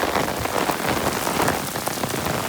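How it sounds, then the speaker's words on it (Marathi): Heavy rain pouring down on a hill trail at Lingacha Dongar near Sangameshwar, Ratnagiri. A dense, steady patter and hiss of drops hitting the ground nearby, with no voices. "आता खऱ्या अर्थाने पावसाला सुरुवात झाली."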